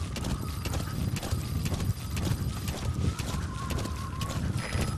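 Horse hooves galloping in Metal Gear Solid V: The Phantom Pain, a steady rhythmic clip-clop running throughout at loud, close level, with the horse whinnying once over the beat.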